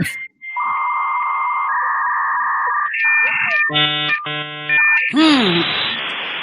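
A dial-up internet modem connects: a dial tone and string of touch-tone beeps, then harsh screeching handshake tones and static hiss, loud and alone.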